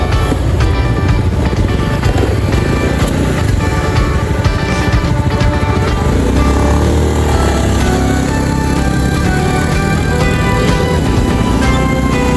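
A motorcycle engine drones steadily and loudly throughout, with shifting revs as if riding along a road.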